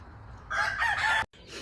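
A Black Marks Mugs rooster, a black gamefowl kept tethered on a cord, crows once close by, loud and clear against a low background hum, with a short pause and fresh sound at the end.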